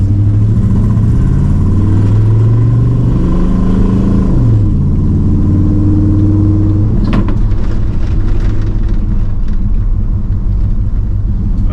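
A 1971 Chevrolet Chevelle engine rumbles loudly and close, its pitch rising and falling through several revs before settling into a rough, misfiring idle.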